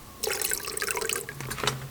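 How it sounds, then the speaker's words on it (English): Water poured into the reservoir of a self-watering net pot with a nylon cord wick, part of a Cephalotus grow system, giving a brief close splashing trickle that starts abruptly and carries on with small gurgles to the end. "so I've added water and it's about to maybe half an inch"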